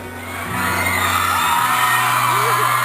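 An audience at a speech yells and whoops, a loud sustained roar of crowd shouting that builds quickly and holds, with a single whooping voice rising above it.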